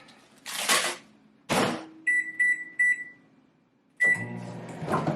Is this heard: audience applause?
no